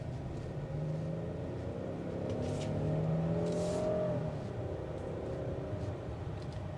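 A 2025 Hyundai Palisade SEL Premium with all-wheel drive accelerates on a highway test drive, its muffled engine rising and swelling in a low cabin drone, heard faintly from inside the vehicle with no talk.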